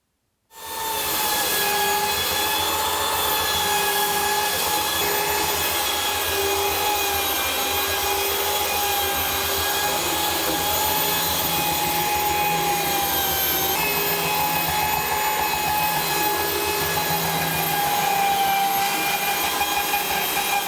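A power sander sands wood for a hardwood flooring bench seat, running steadily and loudly, with a constant whining hum and grinding buzz that barely changes over its length.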